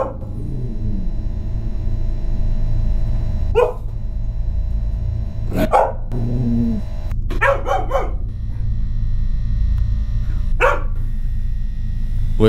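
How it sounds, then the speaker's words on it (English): A dog barking in short, sharp bursts spread across the clip, several separate barks over a steady low background hum. "Weird dog activity?"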